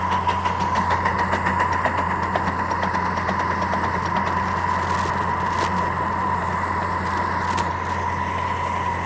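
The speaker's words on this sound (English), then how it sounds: "It's the air compressor running." An air compressor on a small steam mini train makes a steady, muffled mechanical rumble with a continuous hum and faint rhythmic ticking, running constantly in the background.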